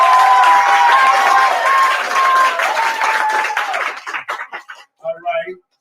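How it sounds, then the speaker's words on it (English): At a graduation ceremony in Atlanta, a crowd claps and cheers loudly under talk and sustained tones, then the applause thins out into scattered claps and fades away. "Clap it up for y'all"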